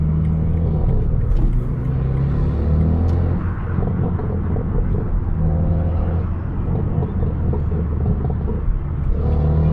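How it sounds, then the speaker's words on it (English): An Acura Integra's engine on a late-night Toronto street, a steady, loud, low rumble that holds for the whole stretch without clear revving. "I gotta hear that Integra."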